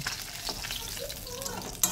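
Fish frying in oil in a small wok, with a soft continuous sizzle, faint crackles and a sharp clink of a utensil near the end.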